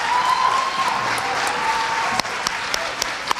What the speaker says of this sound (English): A big round of applause for each and every artist